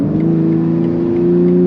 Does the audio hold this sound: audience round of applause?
no